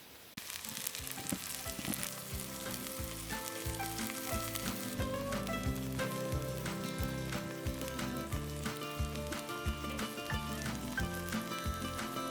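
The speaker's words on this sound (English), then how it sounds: "One of the nice things about a salt block is you can sear it on every side." Steak sears hard on a hot Himalayan salt block, a loud, steady sizzle and crackle with sharp pops running the whole time and no talking over it.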